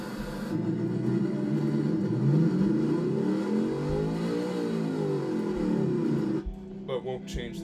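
An ETK ttSport V8 engine in the BeamNG driving game revs up and down in a smooth, rising and falling roar, heard close and loud, with a short break near the end.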